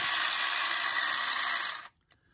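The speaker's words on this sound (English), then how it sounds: "Not only does the drill work, the side crawlers are also working" A small motor in a Thunderbirds Mole model kit runs the drill and side crawlers, whirring with a high, steady buzzing drone for almost two seconds, then abruptly cuts off, followed by a faint click.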